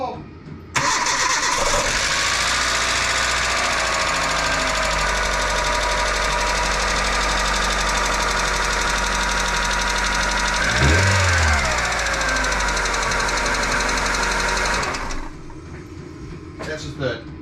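Kia engine cranking and catching, then running steadily with a ticking lifter knock from lifters needing oil, a loud close idle that rises briefly before shutting off near the end, with people talking over it.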